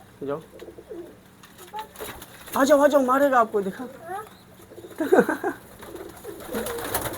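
Pigeons coo in low, rolling warbles close by in a loft, while people talk over and between the calls.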